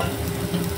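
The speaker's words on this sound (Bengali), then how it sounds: "এখন ভালো করে মিশিয়ে নেব।" Egg mixture with chopped tomato and salt is stirred in a hot pan, a steady close scraping and soft sizzle running without pause through a brief moment, with no voices.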